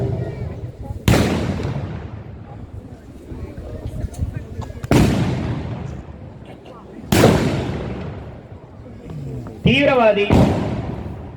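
Gunfire at a military counter-terrorism demonstration at a defense exhibition: four loud, sharp blasts spaced a few seconds apart, each with a long echoing decay, with a faint voice heard between shots.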